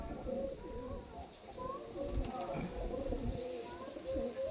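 Pigeons coo in low, repeated murmurs amid a busy loft, with people talking nearby over the calls.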